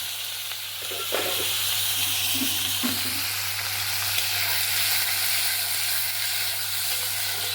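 Chopped onion, capsicum and tomato fry in a pan over a wood fire, giving a steady, loud, close sizzle with occasional stirring scrapes and no talking.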